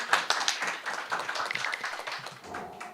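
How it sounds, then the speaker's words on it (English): Applause from attendees at a council meeting, a moderate patter of several people clapping at mid distance, fairly brief and uneven. "you can applaud SecGen."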